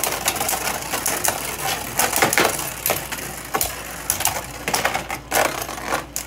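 Beyblade Burst turbo tops spinning and clashing in a stadium during a four-way battle: dense, rapid clattering and scraping with sharp metallic clicks and knocks, steady and busy throughout, fairly close.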